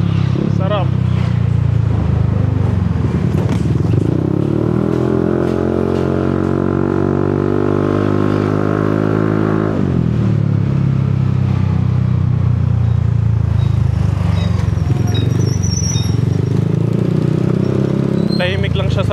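Yamaha NMAX V3 scooter with an RS8 Redlak exhaust revving loudly up close, its engine note climbing and falling, then building again, under someone talking throughout.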